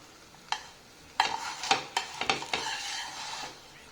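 A chicken dosa is being cooked and flipped in a pan, a soft sizzle broken by several sharp spatula scrapes and taps against the metal, close and clear with no talk.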